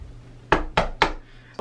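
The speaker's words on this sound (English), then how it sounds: "Knock on wood." Three sharp knocks on a wooden surface in a quick even rhythm, close and loud against a quiet background, with the start of a fourth at the very end.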